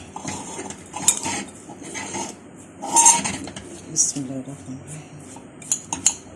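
A metal spoon clinks and scrapes against a dish while masala is mixed into stuffed bitter gourd, bright irregular taps and rattles close by, heard under someone speaking throughout.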